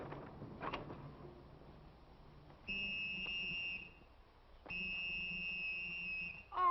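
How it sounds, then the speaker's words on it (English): A whistle sounds in two long, steady shrill blasts with a pause between them, heard from nearby in an otherwise quiet Western setting. "Oh, man, stop blowing that whistle."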